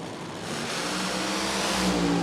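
A nitro funny car engine roars at Willowbank Raceway drag strip during a 2017 outlaw nitro funny car event, a loud, sustained broadband blast that swells slightly with rising harmonic tones, close and continuous with no talk.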